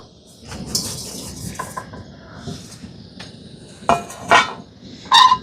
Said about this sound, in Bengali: এবার একটা কড়াই আমি কিছুটা লবণ দিয়ে দেব